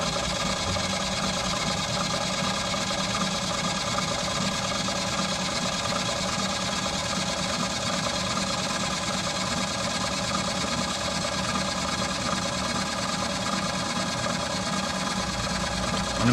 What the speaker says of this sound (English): I've got my spindle spinning